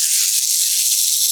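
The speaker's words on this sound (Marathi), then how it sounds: "आता ही तयार फोडणी घालूयात चटणीमध्ये." Hot tempering oil with mustard seeds, cumin, asafoetida, curry leaves and dried red chillies poured into chutney, giving a loud, steady, close sizzling hiss that holds evenly throughout, with no talking.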